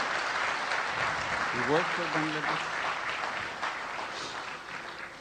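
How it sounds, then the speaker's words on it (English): Applause from an audience at the Bangladesh Business Summit 2025 opening ceremony fills the hall as a steady wash of clapping, running under a man's amplified speech and slowly thinning toward the end. "Let's give another big applause for them."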